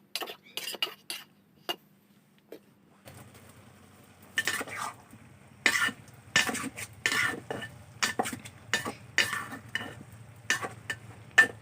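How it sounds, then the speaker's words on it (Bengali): Snails (bugli) cooking with spices in a pot, stirred with a utensil: a steady low simmer underneath, with repeated scraping and clinking strokes coming in bursts, loud and close, with no talking. "এভাবে করে এই বুগুলিগুলোকে মশলার সাথে প্রায় 10 মিনিটের মতো আমি কষিয়ে নিয়েছি।"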